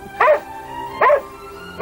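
A dog gives three short, sharp barks about a second apart, fairly loud and close, over a quiet indoor background.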